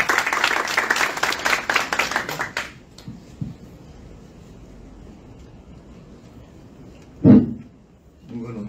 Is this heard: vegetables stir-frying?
no